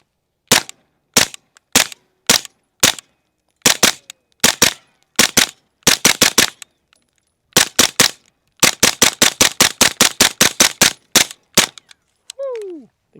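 A Griffin Armament MK2 9mm pistol-caliber carbine, direct blowback and fitted with a Griffin 9mm suppressor, fires loud, sharp, suppressed shots, first singly and spaced, then in quick rapid strings, followed by a faint metallic ring at the end.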